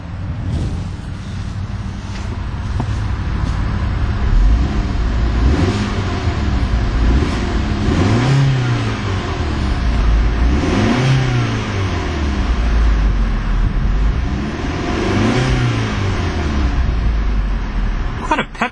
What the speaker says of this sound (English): let's take a listen to that little 4-cylinder and see what it sounds like